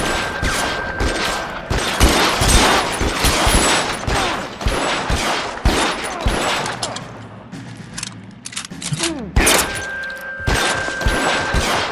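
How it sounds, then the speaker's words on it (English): Gunfire cracks out from below in the video game L.A. Noire, loud rapid volleys of shots and booming impacts in dense bursts, easing briefly before another heavy round. "I hear shots from down below"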